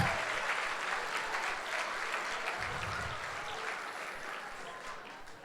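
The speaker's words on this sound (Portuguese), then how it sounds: "Aqui está todo mundo aplaudindo" A church congregation applauding during a seminar, dense continuous clapping from many hands that fades slightly toward the end, with no talk over it.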